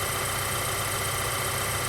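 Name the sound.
Volkswagen Jetta 2.0 TSI engine running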